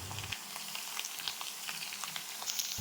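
Chopped tomatoes and green chillies sizzle steadily in a frying pan with curry leaves, a continuous bright crackle with small pops and no talking.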